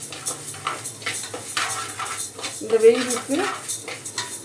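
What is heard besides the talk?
stirring mung dal as it roasts in a pan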